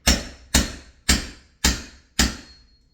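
A Rex tool is struck into a deadbolt on an outward-swinging door during a forced entry, five sharp metallic hammer blows at an even pace about half a second apart, close and loud with ringing decay.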